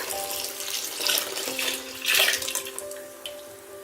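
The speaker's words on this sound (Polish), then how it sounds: "dodajemy e, do zakwasu kilogram wody, czyli dokładnie litr" Water poured from a jug into sourdough starter for bread dough, a steady splashing pour with brief louder surges, close and alone.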